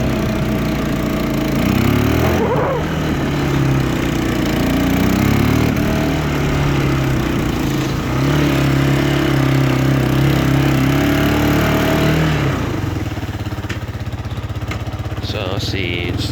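A Kawasaki Bayou 220 2x4 four-wheeler engine runs steadily and close, a moderate buzzing drone that rises and falls gently with throttle before settling toward idle.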